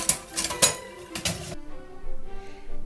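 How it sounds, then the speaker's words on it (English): Dishes being washed in a home kitchen after a holiday meal, with sharp clinks and clatters of pots and silverware in quick bursts, then softer rinsing and handling sounds. "I'm going to start off today by washing my dishes"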